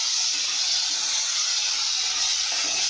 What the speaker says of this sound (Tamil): தக்காளி போட்டு நல்லா மைய வதக்கிக்கலாம்.